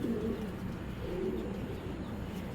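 Pigeons from a giribaz (tumbler) collection coo softly in low, rolling phrases, repeating a few times over a quiet, steady background hum.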